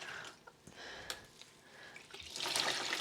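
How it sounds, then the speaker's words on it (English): Cold tap water running over hand-dyed yarn in a sink, a steady quiet trickle and splash that swells louder near the end, with no talking. "And this is just cold tap water."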